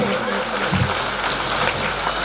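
A village gathering in Gothda claps for a visiting MLA, producing dense, steady crowd applause throughout while voices talk over it.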